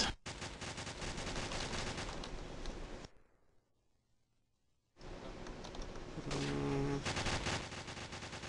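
Bursts of loud gunfire in Call of Duty 4, a dense stretch of rapid shots that stops abruptly, falls briefly quiet, then resumes with more rapid firing.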